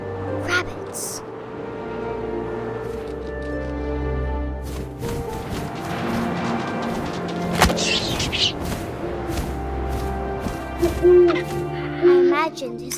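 An owl hoots in the video game What Remains of Edith Finch, a low hollow call over wind and a layered ambient score, with a narrator speaking throughout.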